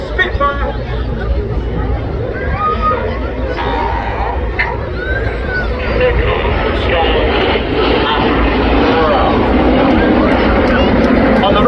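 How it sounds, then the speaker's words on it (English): Supermarine Spitfire flying at a seaside airshow in Blackpool, a steady loud piston-engine drone sustained throughout with crowd chatter and hubbub mixed in. "this is Spitfire"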